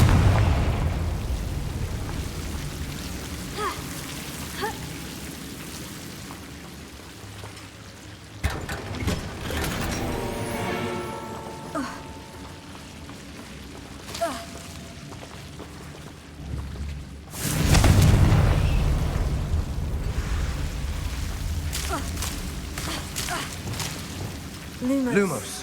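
Confringo blasting spell bursts in the video game Hogwarts Legacy, a few sharp booms standing out from steady game ambience, with a heavier blast midway and a sustained loud burst later, over background game noise.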